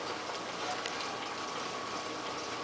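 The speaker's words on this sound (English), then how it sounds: "It's boiling right now" A pot of water at a rolling boil on the stove for oyakodonburi, giving a steady, even bubbling hiss that stays faint and constant throughout, with no talking.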